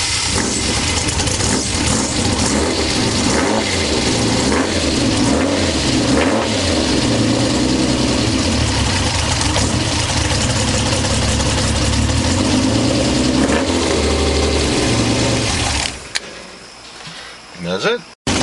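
Alfa Romeo Milano / 75 with a 3.7 litre engine and six-speed gearbox fires up for its first start and idles loudly and close, a steady rough engine note that runs nearly throughout before dropping away at the end, with voices talking over it.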